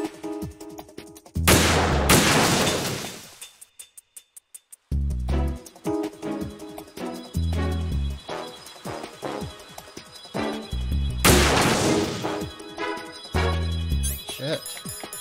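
Sniper support fire in the Metal Gear Solid 2 video game: loud, close gunshots burst out in several sharp volleys with short gaps, the reports echoing over busy game sound effects.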